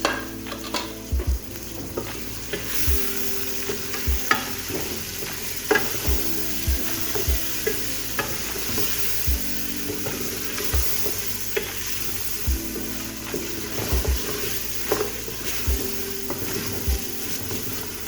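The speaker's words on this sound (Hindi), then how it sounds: "अब मैं इसको अच्छे तरीके से दोबारा 3 से 4 मिनट भूनूँगी" Onion-tomato masala for aloo gosht frying in a pan, a steady close sizzle punctuated by regular scraping knocks of a spoon stirring against the metal, with no talking.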